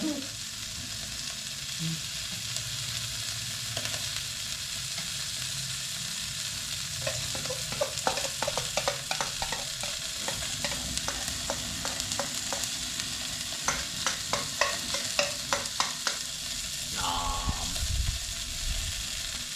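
Broccolini frying over an open fire, a continuous loud sizzle and crackle with bursts of popping and stirring scrapes, close by and steady throughout.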